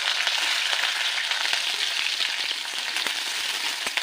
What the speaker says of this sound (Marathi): आपलं तेल तापलेलं आहे, यामध्ये आपण मिरची टाकून घ्यायची